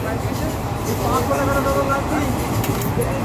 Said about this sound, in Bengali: অ্যাভারেজ 100-তে আর কি ট্রেন চলছে